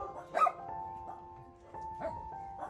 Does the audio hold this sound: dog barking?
yes